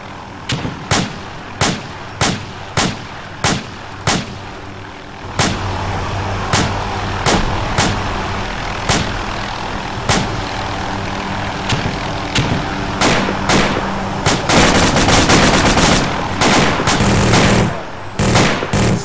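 Machine gun fire in a war video game rings out loud and close, first as spaced single shots, then as sustained bursts over a rumbling vehicle engine, ending in a rapid continuous volley.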